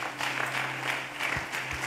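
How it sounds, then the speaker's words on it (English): A church congregation claps steadily for the instrumentalists in a large room, a dense continuous patter of many hands with a low musical hum lingering underneath. "Shall we clap for them?"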